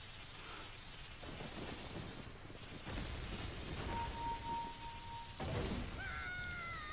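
Rain pours in the Zelda Ocarina of Time video game, steady hissing rainfall with rolling thunder cracks, a sustained tone and a rising chime-like flourish near the end.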